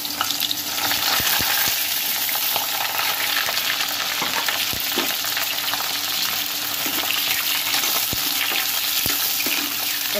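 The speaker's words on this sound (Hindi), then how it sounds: "हम इसमें अपने परवल को फ्राई करेंगे" Pointed gourd (parwal) frying in oil in a kadhai, a continuous close sizzle with scattered stirring clicks and scrapes, heard alone without speech.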